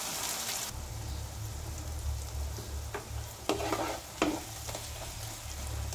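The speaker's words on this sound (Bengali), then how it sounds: "এবার ভালো করে কষার পালা, ভালো করে কষে তারপরে দেখাচ্ছি।" Ginger paste, cumin powder, Kashmiri chilli powder and green chillies sizzle in hot oil in a pan, with a constant frying hiss, a low hum and a few sharp scraping stirs, close and without talk.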